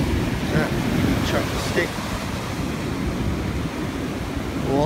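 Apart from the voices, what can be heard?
ocean waves breaking on beach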